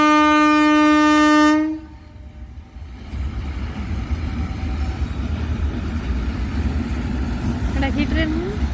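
A train sounds a long, loud horn blast up close, then its passing cars keep up a steady heavy rumble for several seconds, with a faint higher squeal near the end.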